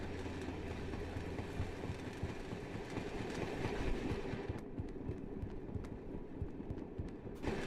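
A train rolls along in a video game with a continuous low rumble and rhythmic clickety-clack of wheels on track, fairly faint and steady, with no talking.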